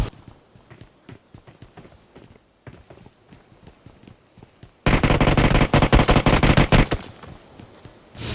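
Loud, dense burst of automatic gunfire in a PUBG Mobile match as a teammate knocks and finishes an enemy, following a stretch of quieter footstep-like thuds and light shots.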